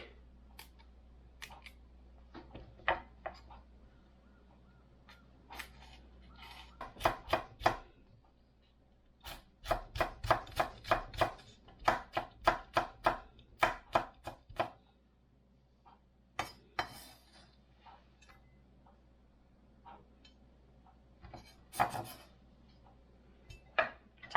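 Two red chili peppers being chopped with a knife on a cutting board, in quick bursts of crisp, close, rhythmic knife taps separated by short pauses.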